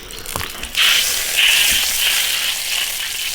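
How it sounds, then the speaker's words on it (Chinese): A whole goose drops into a hot iron wok with a sudden loud hissing sizzle that holds strong and bubbling for a few seconds, close and with no talk. "然后把鹅下锅卤"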